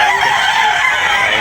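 Chickens and roosters crow and cluck together at a Sunday chicken market in Tabunok, Talisay, Cebu, a loud continuous jumble of bird calls close by.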